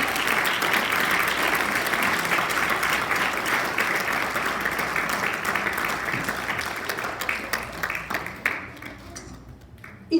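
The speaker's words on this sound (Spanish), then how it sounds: "Den un aplauso al Señor." Church congregation at a Sunday service applauds in a long, dense burst of clapping that holds steady for most of its length, then thins out and fades near the end.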